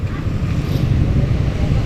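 Strong wind roars steadily across the microphone during a long road bike ride, a dense low rumble that stays loud and constant throughout.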